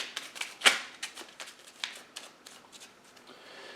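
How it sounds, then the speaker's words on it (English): A deck of Goonies adventure game cards being shuffled by hand, a quick close-up series of crisp riffling flicks and taps, loudest near the start, then tapering into lighter rustles. "I've got to shuffle these now because this deck's empty."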